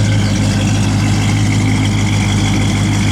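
A 1969 Ford Mustang Fastback V8 idles steadily up close, with a deep low rumble and an even, loping pulse throughout, no talking.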